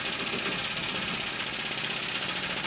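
Air hydraulic jack running while turned on its side, a loud steady pneumatic pumping with rapid regular pulses, about ten per second, close and continuous throughout.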